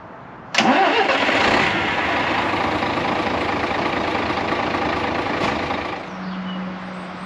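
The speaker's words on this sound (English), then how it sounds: "start the motor back up, get the air right up again" A truck engine cranks and catches with a loud abrupt start, then settles into a steady rumbling idle close by during work on the air brakes, dropping slightly in level at the end.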